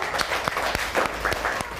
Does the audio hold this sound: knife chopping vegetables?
no